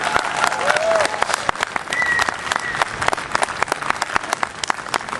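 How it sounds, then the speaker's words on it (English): A crowd gives guest speakers a loud, sustained round of applause, dense clapping close by with a few whistles and some voices mixed in. "Go ahead and give them a round of applause"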